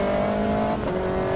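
Radical race car engine in the sim racing game Automobilista 2, a loud, sustained high-revving whine that shifts pitch partway through as the throttle changes, close and alone with no talk.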